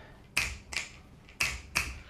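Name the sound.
finger snapping for a Hermès fashion show soundtrack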